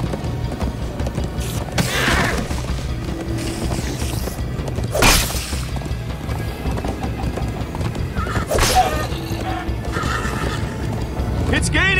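Horse hooves clip-clop steadily while a horse neighs loudly several times during a riding sequence in the video game Minecraft: Story Mode, with game music and effects running underneath throughout.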